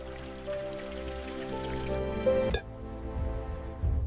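Cool mountain water pours and trickles into a metal opening on an old bus engine in a forest, a steady liquid gurgle with drips, close and fairly quiet.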